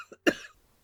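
A single sharp cough breaks into a dramatic reading, preceded by a faint throat sound; close, dry, and brief, followed by silence.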